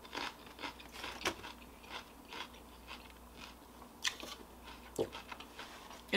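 Crunchy celery sticks from Wingstop being bitten and chewed up close, a few sharp crunches standing out over steady wet mastication, with no talking.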